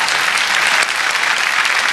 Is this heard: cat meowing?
no